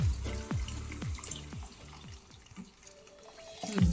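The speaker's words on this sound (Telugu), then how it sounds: "వాటర్ పోసుకోవాలి కొన్ని" Water is poured into a pan of village-style masala egg curry, producing a series of gurgling, bubbling splashes and drips, fairly quiet and close, with pauses between pours.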